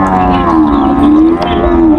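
A single cow gives a loud, close, drawn-out moo at a busy cattle market, one steady lowing call lasting about two seconds.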